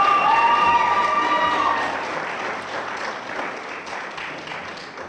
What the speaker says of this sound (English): I asked you to hold your applause until the end of the 4 statements.